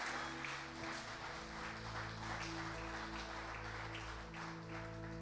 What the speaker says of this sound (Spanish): Dele palmas al Rey de gloria en esta hora.